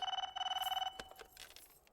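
A telephone bell rings in a rapid trilling burst, pauses briefly, trills again, then stops, followed by faint indistinct noises.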